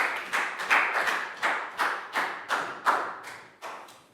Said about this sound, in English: Big round of applause for Pat, guys.